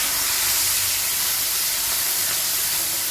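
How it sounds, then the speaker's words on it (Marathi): Crushed chili thecha hits hot oil in a heated kadhai and makes a loud, dense, unbroken hiss. It holds steady at close range and stands alone without speech. "आपली कढई तापली आहे, त्यामध्ये तेल घेतलंय। आपण जो ठेचा वाटून घेतलाय तो टाकूया।"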